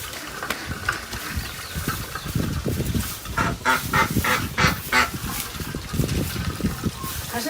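Ducks in a Bangladeshi village on a rainy day give a run of nasal, honking quacks. The calls bunch into a dense, close burst midway and stand out over a busy, noisy background.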